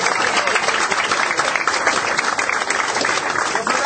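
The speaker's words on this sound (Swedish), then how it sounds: "Wow, en applåd." Loud, dense applause from the audience at a Swedish rap battle at Ubahn, steady and continuous throughout without any pause.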